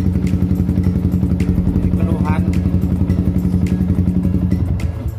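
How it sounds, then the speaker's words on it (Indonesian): A Yamaha R15 motorcycle with an intermittent stalling fault idles close by with a fast, even thumping beat and clattering mechanical ticks, then falters and fades near the end. "Keluhan yang punya sepeda motor ini selalu mati tiba-tiba mati, nanti hidup lagi, mati, hidup lagi"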